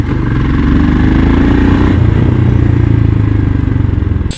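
A Royal Enfield Scram 440 motorcycle runs loud and close while being ridden. Its engine thumps steadily and then its pitch shifts as the rider changes speed. No one talks over it.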